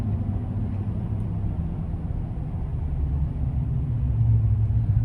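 Low, steady road rumble and engine drone from inside a lifted Chevrolet Silverado Black Widow pickup truck driving on the road, growing slightly louder toward the end, with no talking.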